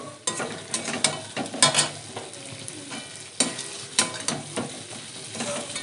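Hilsa fish and eggplant frying in oil in a pan, a close crackling sizzle broken by repeated scraping and clanking stirs of a utensil against the pan, irregular and busy.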